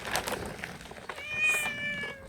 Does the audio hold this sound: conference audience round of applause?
no